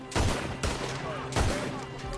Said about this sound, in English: Further we get from those gunshots, better chance we have.